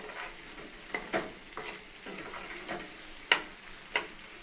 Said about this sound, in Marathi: मग आपण त्याच्यामध्ये डाळ घालू, तुरीची, छान तेलामध्ये होऊ देऊ आपण डाळीला।